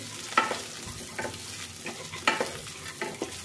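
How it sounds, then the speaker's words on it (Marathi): Cauliflower, soaked peas and peanuts are stir-fried in a pan, with a low sizzle under repeated scraping strokes of a spoon in an uneven rhythm, close and clear, no voices. "आता ह्या सर्व साहित्याला आपण व्यवस्थित परतून घ्यायचं आहे।"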